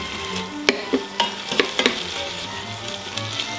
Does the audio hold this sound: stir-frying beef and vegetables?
yes